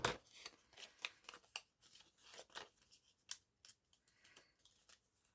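A pair of scissors cutting paper or card for crafting embellishments, a rapid series of crisp close snips and slicing rasps in an irregular rhythm, with no talking.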